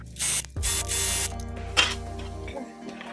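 Sewing machine quilting a double-layered fabric sleep mask, with bursts of loud hissing noise at the start, then a steady motor hum with mechanical clicks that stops abruptly.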